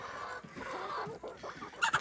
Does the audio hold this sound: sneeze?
no